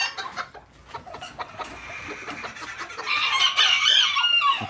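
Miniature roosters and young chicks at a rooster-breeding ranch cluck and crow nearby, a busy overlapping flock with a louder crow rising in the second half, and no one speaking.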